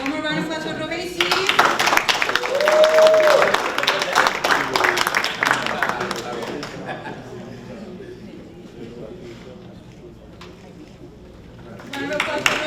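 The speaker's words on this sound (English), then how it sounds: "One more round of applause for Robesis." An audience at a graduation ceremony for a construction training program breaks into loud clapping and cheering for a graduate, swelling over several seconds and then thinning to scattered claps and chatter before picking up again.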